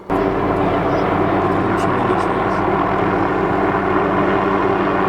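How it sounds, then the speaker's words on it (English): A helicopter carrying a hanging 20-foot chainsaw blade for cutting tree branches flies overhead, its steady, pulsing rotor drone loud and constant from start to finish. "The helicopter was cutting down branches of trees?"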